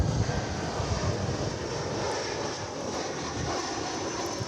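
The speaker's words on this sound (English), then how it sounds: "This is American Flight 2168 coming in from Monterey." American Airlines jet airliner arriving at DFW Airport, a continuous mid-distance engine rumble and hiss that stays fairly even, easing slightly across a few seconds with no voices.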